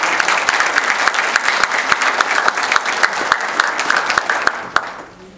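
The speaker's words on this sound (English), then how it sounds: "this really calls for a very big round of applause for you" A large audience applauds an award-winning club at a ceremony, loud dense clapping sustained throughout, with a few sharper individual claps standing out before it fades at the end.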